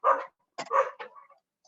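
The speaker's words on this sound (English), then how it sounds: "Sorry, my very noisy dogs" Dogs bark indoors in several sharp, loud, close barks in quick succession, the last trailing into a softer whine, with no speech over them.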